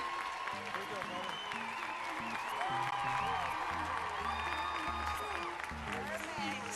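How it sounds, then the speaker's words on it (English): Comic-Con panel audience applauding and cheering, with sustained dense clapping, scattered whoops and crowd noise filling the room, voices mixed into the din. "give one more huge round of applause for Katrina Bolf and Sam Ewan"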